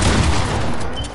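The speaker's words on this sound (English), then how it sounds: "Oh, he's shooting at me." A burst of rapid gunfire from a shooter video game, loud and dense, filling a brief moment with overlapping shots.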